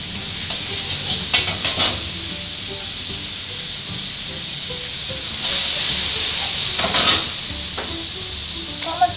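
Butter melting in a pan for butter-fried shrimp gives a soft, steady hiss and sizzle with a few faint crackles throughout.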